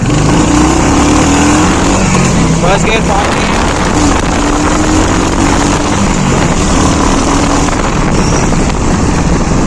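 A Royal Enfield Hunter 350 motorcycle pulls away in first gear, its engine note rising under heavy, constant wind buffeting against the microphone.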